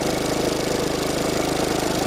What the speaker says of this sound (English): Turn off the engine.